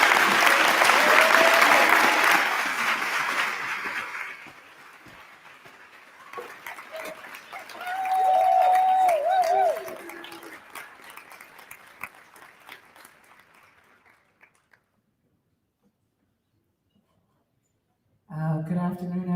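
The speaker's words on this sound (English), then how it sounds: "I want you to put your hands together and give great energy and love to Aida Monet. And don't stop clapping until she reaches this stage." A conference audience claps as poet Aida Monet walks to the main stage. The applause starts loud and thick, then thins and fades over several seconds into scattered quieter sounds, with a voice starting near the end.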